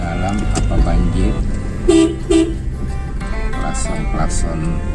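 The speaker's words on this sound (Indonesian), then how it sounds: "Klakson" Two short car horn honks sound close by over a busy mix of traffic noise and voices talking, outside a flooded school in Makassar, Indonesia.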